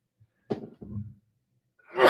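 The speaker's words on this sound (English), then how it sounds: "I'm about to sneeze." A man on a live sports call-in radio show sneezes once, loud and close, at the very end, after a few soft breaths and faint throat sounds.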